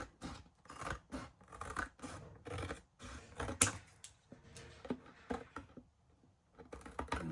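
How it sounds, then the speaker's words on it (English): Scissors snip through the bulky part of a shabby chic paper junk journal cover in a steady run of close, crisp cuts and crunches, pausing briefly before a few final snips. "I'm going to cut this sort of bulky part off here."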